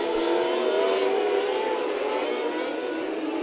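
HART micro sprint race cars roar around the Rush County Fairgrounds dirt track at night, a dense, continuous high-pitched engine drone with overlapping revving tones from several cars racing close together.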